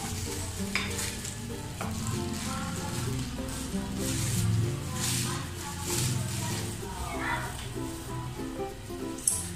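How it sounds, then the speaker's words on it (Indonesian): Dough and margarine being stirred in a pan until the dough is smooth, a steady scraping, sizzling texture that continues throughout with small surges in loudness and no voices. "Nah, sekarang kita aduk-aduk lagi."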